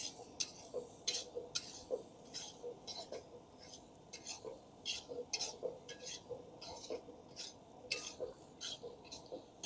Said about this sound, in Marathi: आणि मिक्स करून घ्यायचं चांगलं